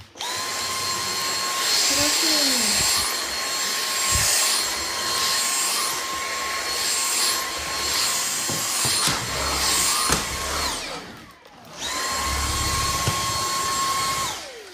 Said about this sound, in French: Donc c'est bien de passer l'aspirateur